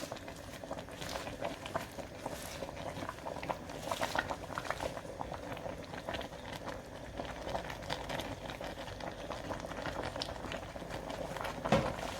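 Okra soup with fresh spinach simmers in a pot, a soft continuous bubbling and light pattering that stays quiet and even throughout.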